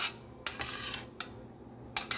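Onions, previously used to marinate the steak, stirred into a pan after frying steak and pouring off the oil; a few sharp scrapes and clinks of a utensil against the pan over a faint background hiss.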